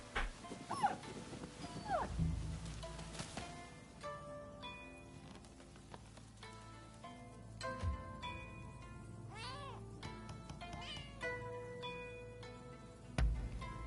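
A dog in the video game Rise of the Ronin whimpers and gives short yips over a layered musical score, the animal sounds coming and going clearly amid the game audio.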